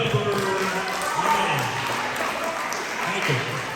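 Middle school students applaud in a lively assembly, continuous clapping mixed with chatter and voices throughout, fairly close and moderately loud.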